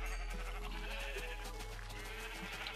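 Sheep bleat in Minecraft, with several short wavering cries over a steady low game hum, close and fairly quiet.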